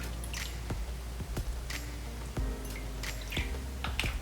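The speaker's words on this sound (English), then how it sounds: "I'm going to pour a little bit of soy sauce in this one little dish." Soy sauce poured into one small dish while making shrimp egg rolls, a faint wet trickle with several soft drips and splats over a steady low hum, close by and brief.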